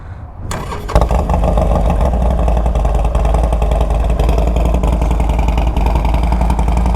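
A tuned Harley-Davidson Forty-Eight motorcycle engine cranks and fires up, then settles into a loud, throaty idle with a rumbling, slightly clattery exhaust that runs steadily to the end.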